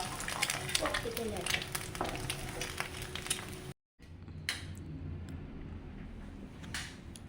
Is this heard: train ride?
no